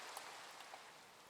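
Steady rain in Minecraft at night, a faint, even hiss of falling drops with a couple of slightly louder patters, no voices.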